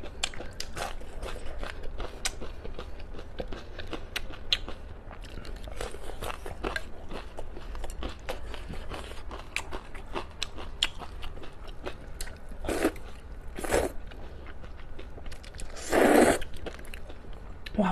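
Close chewing and biting while eating duck blood vermicelli soup with duck offal, soft wet mouth noises throughout and a few louder crunchy bursts near the end, with no talk.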